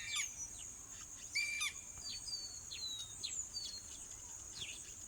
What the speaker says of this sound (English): Sounds of the weaver birds.